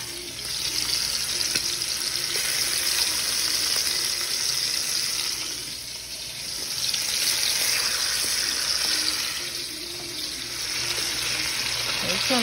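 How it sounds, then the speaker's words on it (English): Pork neck bones searing in bacon grease in a pan: a loud, steady, broad hiss of sizzling fat that swells and eases slightly, with no other sounds standing out. "I am fixing to just lay my, all of the neck bones down into the grease to get a sear."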